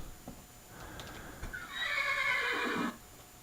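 A flying horse in Minecraft gives a single drawn-out neigh, clear and close, rising then falling over faint background noise.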